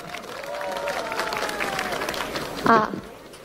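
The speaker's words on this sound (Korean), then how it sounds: "뜨거운 박수로 맞아주십시오" Crowd applause at an outdoor Jeonju campaign rally welcomes a dancer onto the stage, steady mid-level clapping with voices and a tonal line running beneath, then a brief louder burst near the end.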